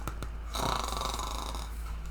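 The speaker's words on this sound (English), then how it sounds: "Oh, I hear a snore." A single drawn-out snore, a rough nasal rasp rising and holding for a second or two with a low steady hum beneath.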